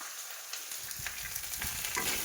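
Boiled chickpeas sautéing in a pan with turmeric and salt give off a soft, steady sizzle, with a few light scrapes as they are stirred.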